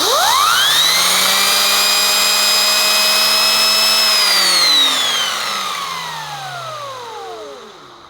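A Henry Pet XL vacuum cleaner with a turbo brush runs with a loud, steady high-pitched whine and airy roar. After a few seconds the tone drops and slowly winds down as the motor fades.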